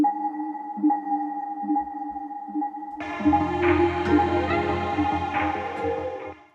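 A pulsing synth note with a delay effect repeats in a steady rhythm, then a fuller music section swells in, with echoing repeats trailing behind the sounds.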